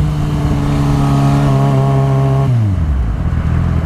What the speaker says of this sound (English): got a nice bit of traffic here to just kind of slow us down